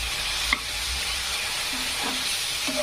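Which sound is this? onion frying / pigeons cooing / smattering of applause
onion frying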